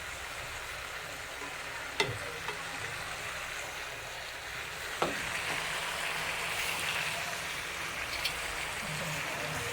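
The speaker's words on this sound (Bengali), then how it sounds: "এখন কষাইতাছি এই তরকারিটা।" Cabbage curry with dried lotia fish and tomato sautéing in a pan: a steady, moderate sizzle runs throughout, broken by a few sharp scraping stirs of a spatula at intervals.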